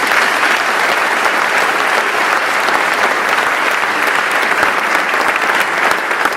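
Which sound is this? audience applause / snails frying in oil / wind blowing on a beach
audience applause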